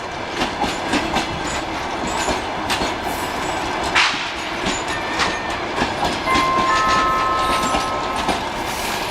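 A passenger train rolling through a Ukrainian railway station, a steady rumble of wagons with clicking wheel noise and brief squeals, continuous and close, with no talk over it.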